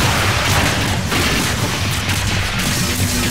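Loud, dense explosions roar from the destroyed enemy commander in Zone of the Enders: The Second Runner, a close, continuous barrage of booming blasts with crackling debris.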